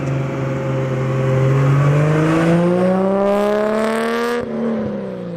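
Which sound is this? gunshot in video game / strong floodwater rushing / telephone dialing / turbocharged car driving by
turbocharged car driving by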